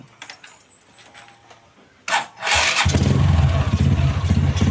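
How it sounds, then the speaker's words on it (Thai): A motorcycle fitted with an air-fuel ratio gauge is started: quiet clicks first, then a sharp starter crank that catches into a loud, steady idle rumble up close, with no talking. "เราจะมาลองสตาร์ทดูนะครับ"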